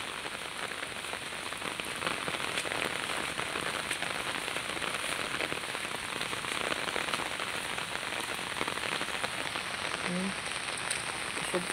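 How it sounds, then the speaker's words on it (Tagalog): Heavy rain pours down steadily and close by, a dense continuous hiss of drops hammering a surface with no letup. "Kusog kay ulan guys."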